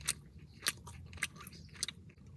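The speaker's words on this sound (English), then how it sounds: "The meat is very chewy too. Like, listen." Close, quiet chewing of a carne mechada arepa, a cornmeal patty filled with chewy shredded flank steak, with soft rhythmic bites about every half second.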